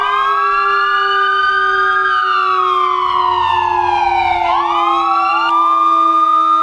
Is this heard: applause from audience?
no